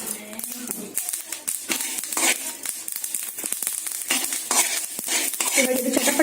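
Flax seeds crackle and pop while roasting in a hot pan, a dense run of sharp close snaps with scraping stirring throughout.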